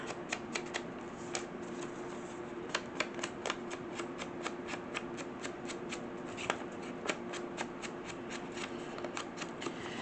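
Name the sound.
trimming paper edge for a junk journal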